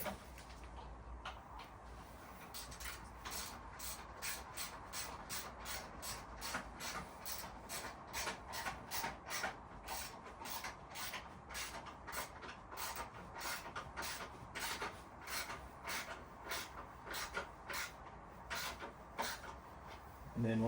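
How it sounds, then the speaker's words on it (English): A ratchet wrench with a socket clicks rapidly and steadily while tightening bolts on a Leo Vince slip-on exhaust for a BMW S1000XR motorcycle, a close, faint run of even ticks lasting about twenty seconds. "Now it's time to tighten up all the bolts."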